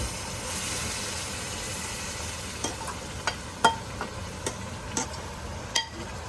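Pinni mixture with dry fruit and whipping cream stirred in a pan: a steady low frying hiss broken by a series of sharp spoon scrapes and clinks in the second half, close and fairly quiet.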